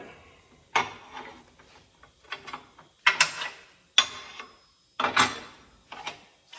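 A metal shear's clamp being lowered into position while cutting the corners of steel mounting plates, heard as a series of sharp ratcheting clanks and clicks in short irregular bursts, close and fairly loud.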